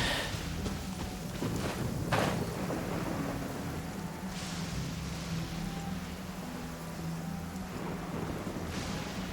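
A thunderstorm rumbles in the Inazuma region of the video game Genshin Impact, with steady rain and low rolling thunder plus brief crackling strike bursts over a continuous, fairly loud wash.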